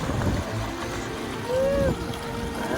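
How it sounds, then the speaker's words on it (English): Water rushes and slushes past a boat hull while an electric outboard pushes the boat along, a steady broadband wash close by with a brief faint whine in the middle. "all we can hear is the sound of the water going past the hull"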